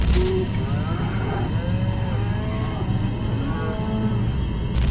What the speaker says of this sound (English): He was simply filming a group of cows